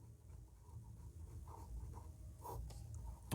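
Pen or chalk writing during a Class 10 maths lesson, with faint, soft scratching strokes in short bursts over a quiet background.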